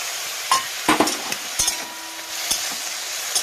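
Ginger paste frying with spinach and eggplant in a pan, a soft steady sizzle under scattered sharp clanks and scrapes of a spatula stirring, close and moderately loud, with no talk.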